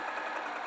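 A sewing machine stitches a flannel tunic seam, a brief steady whirring hum running evenly and close throughout, with no voices.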